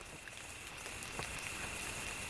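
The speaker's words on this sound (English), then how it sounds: "it is raining" Steady rain patters through woods, a faint continuous hiss with soft drops.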